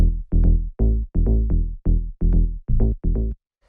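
Dry FM synth bass without chorus plays a tech house riff of about ten short, clipped notes in a steady bouncing rhythm, solo and upfront, ending on a brief silence.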